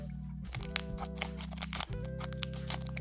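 Small scissors snip and crunch through the foil of a One Piece trading card booster pack, close and quiet, with crinkling plastic between cuts over a steady low hum.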